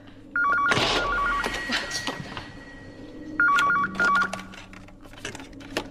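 Telephone inside a police box ringing with loud, close electronic trills in two bursts separated by a pause, a brief voice heard between them.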